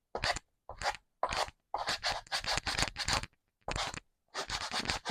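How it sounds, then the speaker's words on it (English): Rhythmic strokes of a sanding block scraping back and forth across a composition notebook cover, about a dozen short gritty bursts separated by brief pauses, close up. "So I'm just sanding that off"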